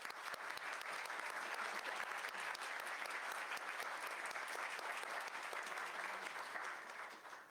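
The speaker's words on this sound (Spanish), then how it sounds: "le damos un aplauso" An audience at a talk on constitutional reforms for women's equality applauds a speaker with steady, even clapping that holds throughout and then tapers off at the end.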